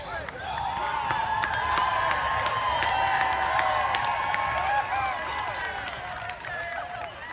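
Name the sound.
crowd cheering at a protest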